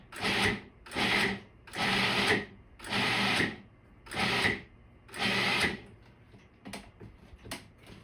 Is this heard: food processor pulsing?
yes